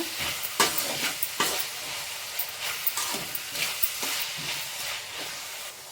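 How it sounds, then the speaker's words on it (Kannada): Paneer fried rice stirred in a hot pan, a steady sizzle broken by a series of sharp spatula scrapes and taps at an uneven rhythm, close and clear, with no voices. "ಚೆನ್ನಾಗಿ ಮಿಕ್ಸ್ ಮಾಡ್ಕೊಳ್ಳೋಣ"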